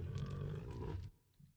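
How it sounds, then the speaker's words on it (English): A tiger growls in a 4v4 Age of Empires-style strategy match on the Rage Forest map, a low rumbling roar lasting about a second amid faint game ambience, then trailing off. "Ooh, I hear a tiger growling."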